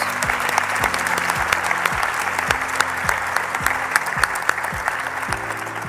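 A large crowd at a political rally applauds President Claudia Sheinbaum, dense sustained clapping, loud and close, with no voices over it.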